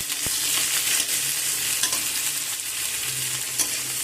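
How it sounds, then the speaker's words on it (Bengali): Thick-cut onion frying in oil tempered with nigella seeds, a steady close sizzle with occasional scrapes and knocks of a stirring spatula, no voices. "পেঁয়াজকে আমি একটু মোটা মোটা করে কেটে রেখেছিলাম সেটা দিয়ে দিলাম"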